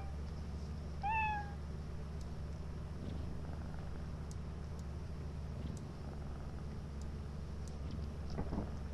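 A cat in the Lethal Company video game gives a single short meow near the start, heard faintly over a steady low rumbling ambient drone with no talking.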